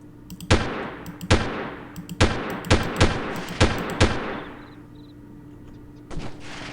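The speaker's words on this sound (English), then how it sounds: "he's the sniper we're hearing" Sniper rifle gunfire in the video game Delta Force: six sharp, loud shots in an uneven rhythm, each with a long decaying echo, followed by quieter game ambience and a faint final report.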